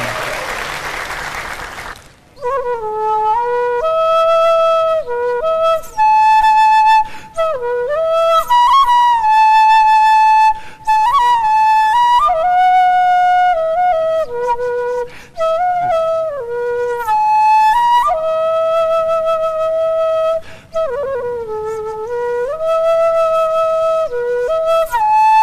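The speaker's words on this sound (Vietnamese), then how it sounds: "Tiếng sáo là réo rắc lắm á nha, có thể là rung động lòng người ta đó" A bamboo flute carries a long, loud melodic solo with sustained notes, bends and short pauses, preceded by a brief burst of applause.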